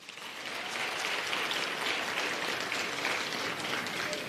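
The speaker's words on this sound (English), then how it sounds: "Can we clap hands for yourselves?" A crowd at an ANC meeting with artists applauds steadily for a few seconds, a dense patter of clapping that swells quickly and holds without voices on top.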